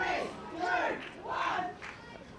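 A crowd at a men's Premier League netball semi-final between Forestville and North East chants a countdown in loud rhythmic bursts of massed voices, slightly out of time with one another.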